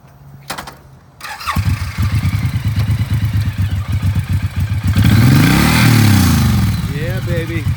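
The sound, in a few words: 2017 Suzuki Boulevard M109R motorcycle engine starting and running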